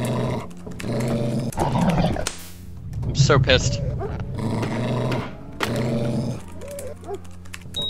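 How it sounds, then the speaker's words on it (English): In the video game Monaco, a guard dog growls and snarls while it attacks, loud and close, in several bursts broken by short gaps, as players talk over the noise. "Dog is eating me."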